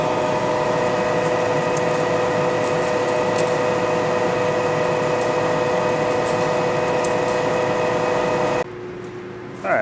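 Lion lathe turning a solid 8-inch steel roller stub shaft, a steady machine hum with tonal whine and cutting noise running continuously, loud and close, dropping away briefly near the end.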